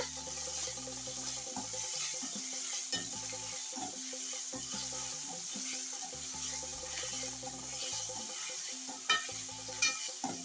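Ginger garlic paste sautéing in a pan for chicken biryani, a steady sizzle under repeated scraping strokes of a spoon, with a few louder clinks near the end and no talking.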